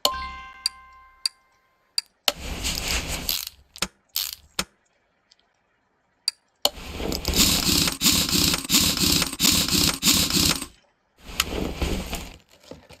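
Brake calipers are fitted in the video game Car Mechanic Simulator 2018: sharp clicks and ticks alternate with several loud bursts of rattling, ratchet-like mechanical noise separated by short silences.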